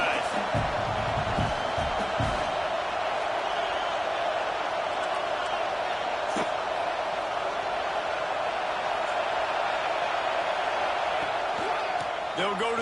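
Football stadium crowd gives a steady, broad roar throughout, with faint cheering swells and scattered shouts, under an announcer's commentary voice.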